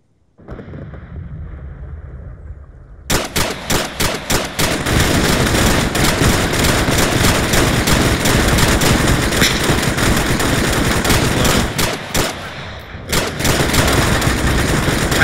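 Gunfire in a military operation setting, a few single shots giving way to sustained loud machine-gun bursts and heavy rapid shooting close by, briefly pausing before resuming.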